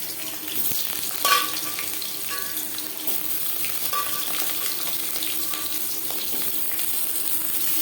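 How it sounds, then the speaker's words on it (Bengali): Peeled medium potato pieces frying in oil with panch phoron and bay leaf for a niramish aloo potol curry; a steady close sizzle with a sharp spatula clatter early on and occasional light scrapes, no talking. "দশ পনেরো সেকেন্ড পাঁচফোড়ন তেজপাতা ভেজে নেওয়ার পর দিয়ে দেবো টুকরো করে কেটে রাখা আলু"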